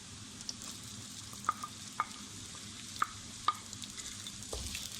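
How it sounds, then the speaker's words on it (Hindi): Potatoes frying in a pan with fried onions for a vegetable vermicelli biryani, a steady sizzle broken by several sharp scrapes and taps of the stirring spoon. "प्याज हमारे फ्राई हो चुके हैं। अब इसमें आलू डालते हैं।"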